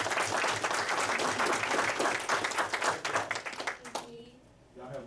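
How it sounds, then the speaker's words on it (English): An audience at a city government work session meeting in Douglas, Georgia claps in dense, loud applause that thins out and fades away toward the end. "Let's give a round of applause."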